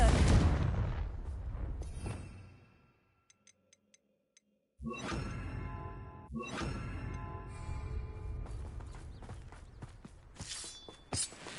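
A Confringo spell explosion in the Hogwarts Legacy video game, a loud rumbling blast that fades into near silence with faint ticks, then another dense burst and sustained crackling roar with sharp pops, no voices.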